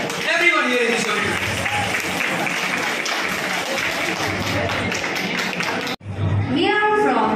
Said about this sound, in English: Can I have a huge round of applause for them, please?